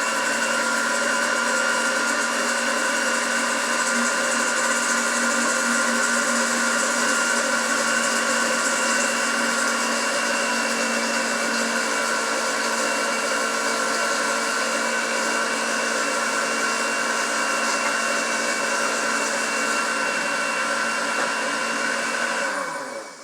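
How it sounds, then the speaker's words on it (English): A kitchen blender whirs continuously at high speed while melted butter is poured in for hollandaise on eggs Benedict, a loud steady motor drone with no talk, winding down at the very end. "You're going to want to pour it into the blender while the blender is going."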